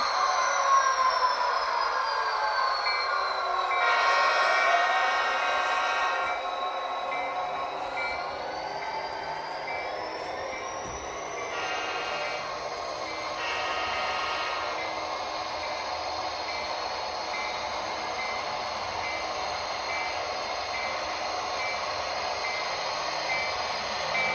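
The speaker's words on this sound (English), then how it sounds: "I'm going to let this long train go on it." A model train rolls steadily along the track with a continuous metallic rumble and faint high squeals from the wheels, no voices.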